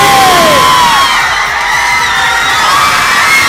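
Loud crowd at an Italian fan event in Padova for a YouTuber's arrival, shouting, whooping and cheering continuously with high-pitched screams, close and dense throughout.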